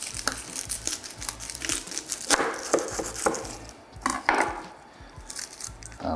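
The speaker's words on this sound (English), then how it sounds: "I'm also gonna cut a head of garlic in half" A knife cuts a head of garlic in half on a cutting board in a home kitchen, giving close, crisp crunches and knocks against the board with light crinkling of papery skin, alone without talk.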